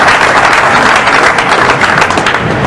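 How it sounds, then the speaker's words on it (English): Close, loud, steady applause from a small handful of supporters at a World 9-ball Pool Championship match, dense rapid hand claps continuing without pause. "Yeah, all 3 of them clapping their hearts out"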